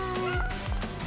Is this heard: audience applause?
no